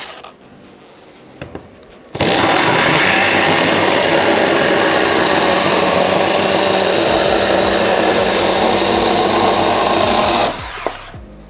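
Milwaukee M12 FHS-0 cordless chainsaw cutting through a wooden board, a loud, steady high-revving buzz starting abruptly after a quiet moment and running about eight seconds before cutting off.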